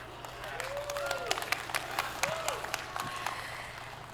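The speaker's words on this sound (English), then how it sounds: "she knew the applause was coming" Scattered clapping and crowd applause from an audience at the Eve Online Fanfest, with a voice talking over it and sharp claps popping in and out.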